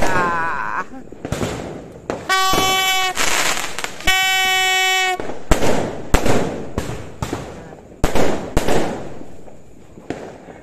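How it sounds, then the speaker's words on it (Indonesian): New Year's Eve 2021 fireworks set off by a few people in a quiet housing estate: repeated sharp bangs and crackling bursts scattered irregularly throughout, fairly close and loud, with two sustained tonal horn blasts in the middle. "Hanya beberapa orang yang menyalakan kembang api."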